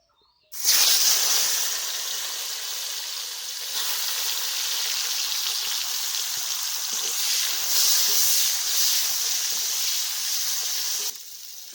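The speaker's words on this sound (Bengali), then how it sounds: "সবজির মধ্যে আমি উচ্ছেগুলো আর বেগুনগুলোকে ভালো করে ভেজে নেব" Bitter gourd and brinjal pieces hit hot oil with a sudden loud hiss, and a steady, bright frying crackle carries on for about eleven seconds before cutting off.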